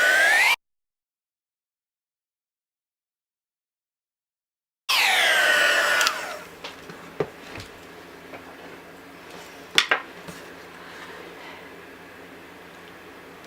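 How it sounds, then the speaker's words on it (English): After a brief silence, a heat tool for melting embossing powder on a card blows with a steady airy whoosh, then quiets to a low hum with a few small ticks and clicks nearby. "use our heat tool to emboss this"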